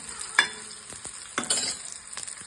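Chopped onion and coriander seeds roasting in a pan for a homemade mutton dish, with soft sizzling and a few sharp scraping stirs of a spoon against the pan.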